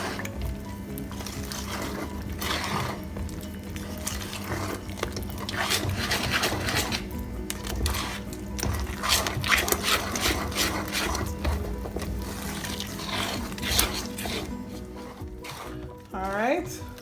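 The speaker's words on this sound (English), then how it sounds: "we're going to mix all of that together" Banana bread batter is stirred by hand, wet and dry ingredients being mixed with steady squishing and scraping strokes against the bowl, fairly close and continuous, while someone talks over it.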